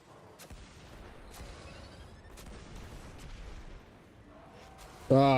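Gunfire and explosions in a video game, a steady barrage of thuds and cracks with scattered sharp bursts running throughout, followed by a brief loud tonal sound at the very end.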